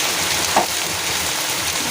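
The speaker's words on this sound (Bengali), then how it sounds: "আলু, ভেন্ডি এগুলো সব একসাথে ভেজে নেব।" Potatoes, okra and onions frying together in a pan for a ladyfinger curry, a continuous close sizzle and crackle with no talk over it.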